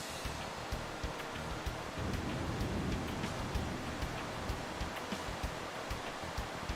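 Heavy, steady rain hiss from a torrential downpour in the video game Pokemon Omega Ruby/Alpha Sapphire, a constant dense wash of noise with faint ticks, alone and unbroken throughout.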